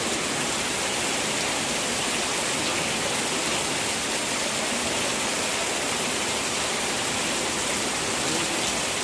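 Heavy rain pours down in an Odia village, a dense, steady broadband hiss that stays even and loud throughout with no individual drops standing out and no voices.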